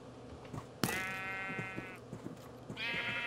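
Sheep bleat in Minecraft: a sharp hit is followed by a long, buzzy bleat, then a second bleat near the end, with small game thuds and clicks between them and no talk.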